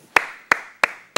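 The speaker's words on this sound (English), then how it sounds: "Clapping." Four sharp hand claps in a syncopated rhythm, close and crisp, with each clap ringing briefly before the next, during a theatre arts lesson.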